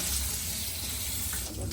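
Water pours and splashes steadily into a pot of cooked snails, a continuous hissing gush with a voice faintly present nearby.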